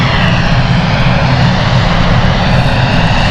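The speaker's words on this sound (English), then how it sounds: "Got quite a few aircraft starting up now." Several aircraft engines spool up at London City Airport, a loud, steady low roar with broadband rush filling the whole stretch, no voices over it.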